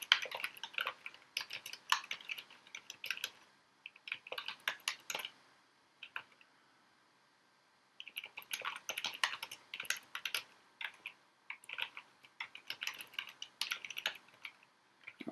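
Computer keyboard typing in quick bursts while writing a code docstring, close and fairly quiet, with a short pause mid-way before the rapid keystrokes resume.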